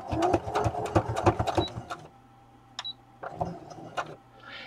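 A sewing machine running a straight stitch, with rapid rhythmic needle thumps in a quick burst, then a pause and a few short stitching spurts, close by.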